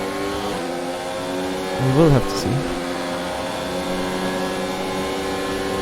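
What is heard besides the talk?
racing car engine in an F1 racing video game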